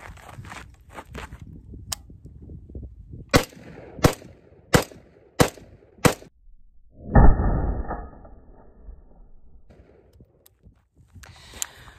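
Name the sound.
rifle gunfire with JMAC RRD-2C muzzle device, 10.3-inch barrel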